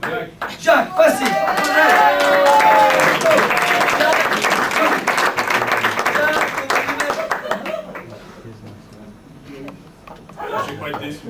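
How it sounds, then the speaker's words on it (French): Audience applause at a Club Med café-théâtre show in Alpe d'Huez, a dense burst of clapping from a crowd for a volunteer that swells and then fades, mixed with a presenter's voice and laughter. "Regardez, on peut l'applaudir ton prénom?"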